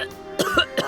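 A game character in the horror visual novel Iwaihime coughs three times in quick succession, short raspy bursts heard close and alone.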